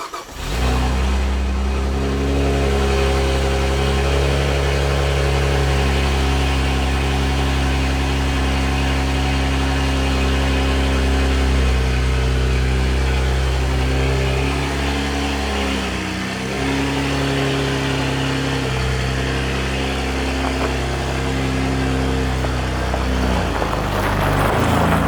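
A 2008 Saab Turbo X engine idles close by with a steady, low droning hum and a slight wobble in pitch partway through.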